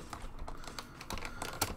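Computer keyboard keys clatter during play of the Steam World Dig game, a quick irregular run of close clicks and taps with a few sharper presses, heard without speech.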